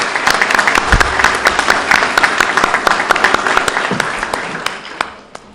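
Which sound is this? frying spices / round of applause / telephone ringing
round of applause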